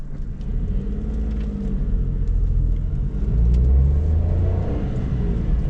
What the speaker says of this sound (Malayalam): നോയ്സൊക്കെയുള്ള എഞ്ചിനാണ്. ഭയങ്കര സൈലൻ്റ് ആണെന്ന് പറയുന്നില്ല, കാരണം അതൊരു 3 സിലിണ്ടറാണ്.